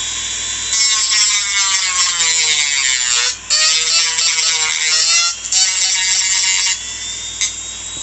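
A rotary drum tool grinds plastic parts off a Star Trek Galaxy class starship model kit, giving a steady, close, high-pitched whine with a couple of brief dips where the tool lifts off.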